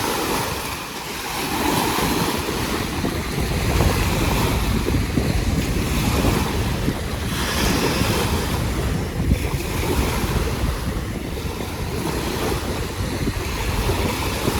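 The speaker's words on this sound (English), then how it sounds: "it's windy today, if you haven't been able to tell that" Strong wind gusts buffet the microphone at a tidal beach at Belle Isle State Park, with steady roaring surf and rumbling broadband noise that surges and eases over the whole stretch.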